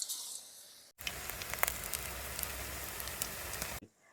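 Okra fritters fry in hot oil with a loud, dense sizzle and scattered crackles, lasting about three seconds before cutting off.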